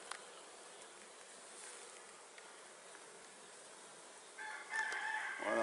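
Black honeybees buzz faintly over a brood frame during a hive inspection, a soft, steady hum. Near the end a louder tonal sound rises, and there is no speech.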